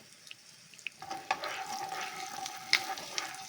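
Spices fry in a pan for temple-style pulihora, a soft, quiet sizzle with occasional scraping strokes of stirring, close by and with no talk.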